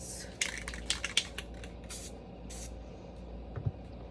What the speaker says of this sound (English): Just spraying wherever